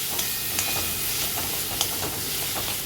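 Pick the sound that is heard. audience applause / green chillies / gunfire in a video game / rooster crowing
green chillies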